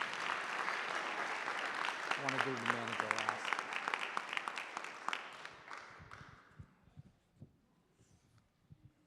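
A town council meeting audience applauds in a full, loud burst that tapers into sparse claps over several seconds, with a voice speaking briefly over it.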